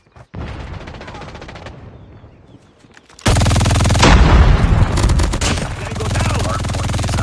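MG42 machine gun fire in the Call of Duty Mobile game: after a quieter opening stretch, loud rapid bursts of automatic gunfire erupt with booming game effects, close and dense.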